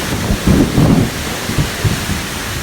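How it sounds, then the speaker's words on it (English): A summer thunderstorm at a cabin, with heavy rain and strong winds: deep rolling rumbles of thunder over a steady roar of rain, and gusts buffeting the microphone up close. "we've got some pretty significant storms coming in here"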